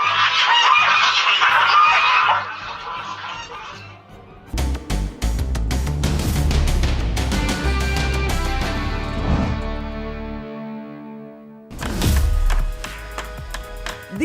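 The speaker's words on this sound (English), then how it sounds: "Oh no, it's a gaggle of geese" A flock of geese honk and cackle in a loud, dense chorus for the first couple of seconds, then give way to sudden dramatic music and booming hits that fill the rest.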